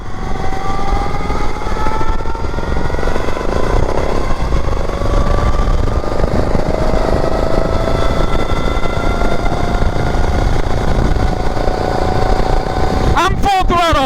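Fast mower build's engine held at full throttle, a loud, close, continuous buzzing roar with rising pitch as it climbs in speed, steady throughout with a brief rattle near the end.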